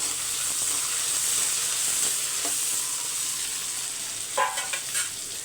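Whole shallots fry in a pan with a constant close sizzling hiss, followed near the end by a few sharp clattering stirs against the pan, with no talking.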